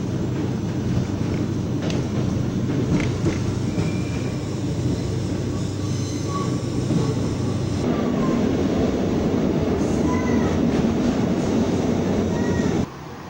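A metro train rumbles steadily through Campo Grande metro station in Lisbon, with faint high squeals and tones above the low roar until it cuts off near the end.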